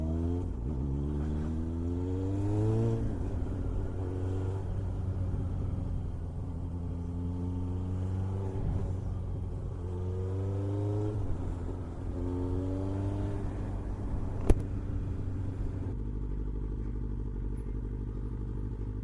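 A small commuter car drives along with a steady low engine rumble, its pitch rising and falling through several gear changes, heard from inside the car and with no talking.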